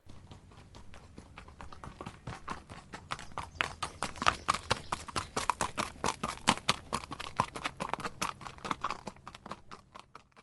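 A horse's hooves clip-clop in a steady, brisk rhythm on a hard surface, growing louder through the middle and staying fairly close, with no other sounds competing.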